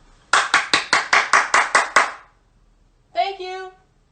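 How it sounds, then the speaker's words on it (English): A single person claps hands nine times in a steady, even rhythm, close and crisp, followed after a pause by a short burst of voiced sound. "So I'm gonna clap."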